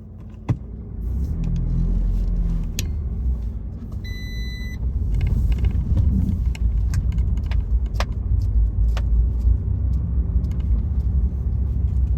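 A 2014 Fiat 500 with the 0.9 TwinAir engine pulls away and drives, giving a steady low engine rumble heard from inside the cabin. A jangle of keys and a few short beeps sound early on, and there is no talking.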